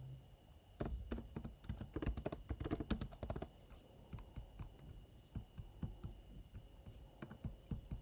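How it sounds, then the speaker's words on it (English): Rapid clattering keystrokes on a computer keyboard while code is entered, a dense loud burst early on, then sparser, quieter taps continuing over a low steady hum. "Let me just type it out."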